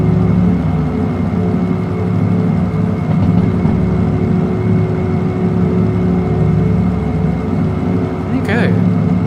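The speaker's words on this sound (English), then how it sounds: "The engine feels a little louder than normal." A train engine rumbles steadily throughout in the VR game Derail Valley, a loud continuous low drone with a brief higher whine near the end.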